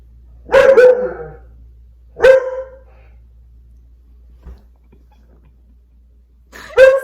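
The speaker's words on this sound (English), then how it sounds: "There's a dog walking by outside, so he's going absolutely wild, trying to bark at it." An indoor dog barks at another dog passing outside: three loud, close bursts of barking spaced a couple of seconds apart, with quiet between them.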